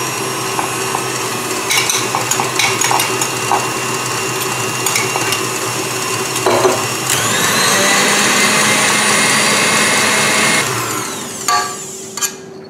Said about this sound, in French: je vais rajouter les blancs d'œufs et je vais mélanger environ 20 secondes à vitesse maxi